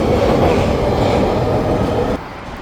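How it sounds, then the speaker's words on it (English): Passing train near Sapperton, rolling loudly and close with a dense rumbling clatter of wheels on rails that cuts off abruptly near the end, leaving a quieter background. "There's the train."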